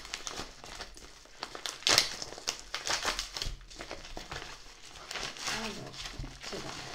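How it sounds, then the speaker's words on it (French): Bubble mailer envelope holding an oracle card deck crinkles and crackles as it is handled and pulled open, close and busy, with irregular plastic rustles and a sharper crunch near the start. "Donc ça arrive dans une enveloppe bulle comme ça."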